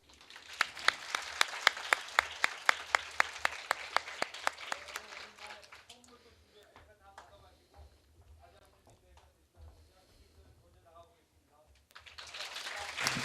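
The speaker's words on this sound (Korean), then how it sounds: "여러분 뜨거운 환영의 박수와 함께 세 분" Audience applause welcoming three diplomats onto a stage at a Foreign Ministry event for exam students, a burst of sharp hall clapping that fades as a host speaks, then swells again at the end.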